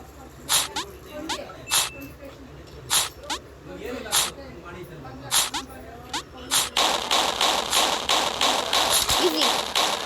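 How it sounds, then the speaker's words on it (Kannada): Bombs drop in the platformer game Level Devil as a series of sharp, punchy thuds at irregular intervals, then a dense, rapid flurry of hits, with a person talking throughout. "ಅರೆ ಬಾಂಬ್ಸ್ ಬೀಳಕ್ ಶುರು ಆಯ್ತು"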